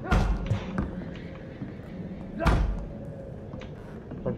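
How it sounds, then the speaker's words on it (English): Heavy banging on a door in the video game Vampyr, a few loud booming thuds spaced over a few seconds over a low background hum. "Okay someone is beating eight door."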